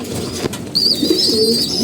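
Pigeons coo close by, soft low throaty calls running under a thin high whistling tone, loud and steady for a brief moment with no voices.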